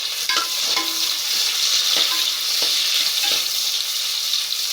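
Green chillies and chopped onions fry in hot oil for tomato rice, a loud continuous sizzle with a few spoon scrapes and clinks against the pan, close and without any talking.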